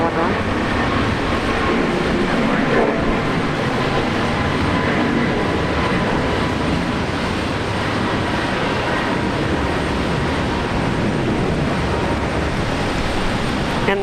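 A Jetstar jet at Brisbane Airport roars steadily through its takeoff, a loud, continuous broadband engine rumble that holds for the whole stretch with faint talk underneath.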